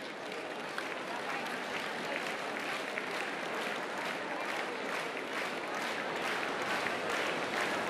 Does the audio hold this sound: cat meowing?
no